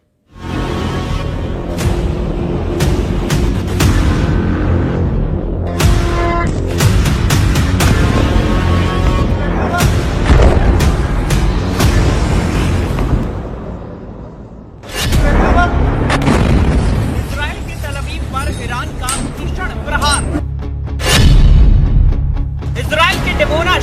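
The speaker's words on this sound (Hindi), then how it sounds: "इजराइल के डिमोना शहर पर मिसाइलों की बौछार।" Missile strikes and explosions over the Israeli town of Dimona, heavy, booming blasts and rumbling roar, loud and sustained throughout, with a dip before another surge, mixed with voices.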